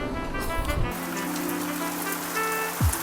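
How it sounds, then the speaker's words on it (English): Rain falls steadily on a city balcony in Budapest, a close, continuous hiss and patter with a faint low hum running beneath it and a brief low sound near the end. "This rain isn't stopping anytime soon."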